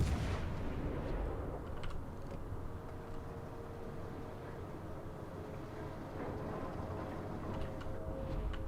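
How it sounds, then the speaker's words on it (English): Front guns of the battleship North Carolina firing in a naval video game, a continuous heavy roar of distant artillery booms and rumbling blasts that fills the whole clip without any talking. "working out my front guns on the North Carolina"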